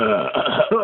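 A loud, drawn-out human belch lasting nearly a second, rough and gurgling, breaking into uneven sections with a brief dip before a final burst, heard alone up close.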